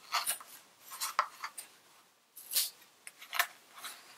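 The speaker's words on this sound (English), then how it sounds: "And I need to cut through the back of my loom." Scissors snip through the warp strings on the back of a weaving loom, a series of quiet, crisp cuts with short pauses between them, heard close up with no talking.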